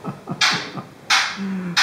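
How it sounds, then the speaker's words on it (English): An African grey parrot makes a string of quick chirps and then harsh, hissing screeches in short bursts, one of them with a held whistle-like tone, heard fairly close with no talking. "The noise you hear in the background is our African gray parrot."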